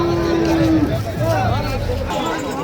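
Cattle lowing at the crowded Thandarampattu cattle market, one long loud moo followed by more bellowing over a busy background of chatter and crowd noise.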